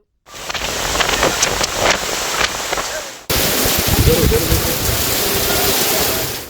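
Steady, dense heavy rain in Hyderabad fills the scene at close range, with a brief break midway before the downpour resumes just as loud; no voices.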